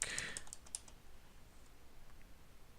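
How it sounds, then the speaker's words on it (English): Someone types on a computer keyboard: a quick burst of close keystrokes for under a second, then only quiet room noise. "Let me try typing that in real quick."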